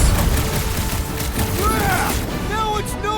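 Rapid bursts and booms of fireworks going off during combat in the Guardians of the Galaxy video game, loud and dense, layered with game effects and character voices throughout.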